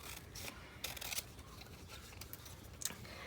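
Scissors snip through magazine paper for a collage, a few quiet, brief cuts and rustling scrapes spaced out against a soft background.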